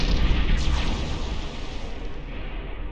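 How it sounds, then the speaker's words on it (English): Spaceship explosions in EVE Online: a dense, rumbling roar of blasts that starts loud and slowly fades, with no talk over it. "Those explosions are kind of impressive."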